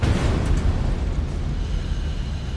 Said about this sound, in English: Flames flash back into the storage tank, causing an explosion which blows off the tank lid